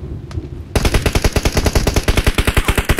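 Automatic gunfire in the mobile battle royale game PUBG Mobile starts abruptly after a short quiet moment, then rattles on as a loud, rapid, evenly spaced stream of shots.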